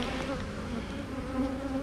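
Honey bees buzz in a busy, prosperous hive fitted with a plastic excluder, making a dense, steady droning hum heard up close and unbroken.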